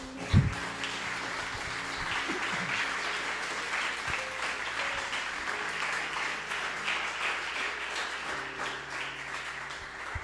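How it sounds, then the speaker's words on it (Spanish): A congregation at a church service gives a loud round of applause, continuous clapping with a low instrumental hum underneath and a thump at the start. "Den un fuerte aplauso al Señor"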